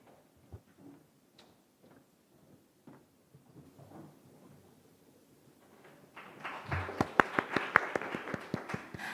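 Audience at a Korean youth speech competition preliminary round breaks into applause for a student speaker, a loud burst of dense clapping that begins after several seconds of quiet room sound and continues to the end.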